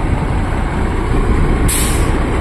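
A bus air brake lets out one loud, sharp hiss at a ferry port in Dangay, Roxas, where buses are loading onto a ferry. It cuts in over a steady, close rumble of idling heavy engines.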